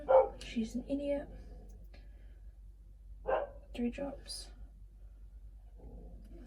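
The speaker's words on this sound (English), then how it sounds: "Sorry if you can hear my dog barking" A pet dog barks a few times in the background, faint and intermittent, while someone talks over it during a slime-mixing session.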